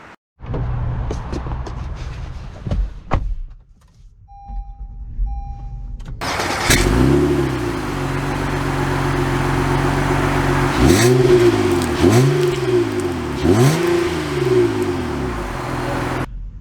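A 2022 Honda Pilot TrailSport SUV engine cranks and catches after a brief quiet spell with a soft electronic chime, then settles into a steady close idle broken by three rising and falling revs.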